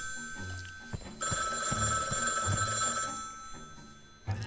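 Telephone ringing in the Meteor Mess adventure game, a loud sustained electronic bell trill lasting a few seconds with brief thumps before and after.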